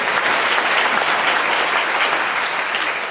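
A church congregation at a deaf ministry service bursts into a dense, steady round of applause, loud and sustained, tapering slightly at the end.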